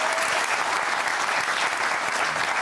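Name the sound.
studio audience applause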